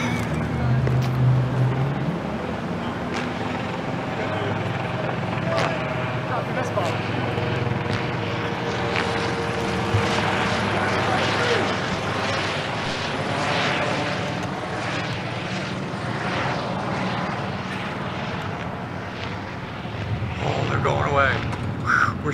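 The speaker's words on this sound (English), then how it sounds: "No, it's a police chopper." Police helicopter flying overhead near a streetcar museum, a loud rotor and engine drone that swells and pulses as it passes, with people talking over it.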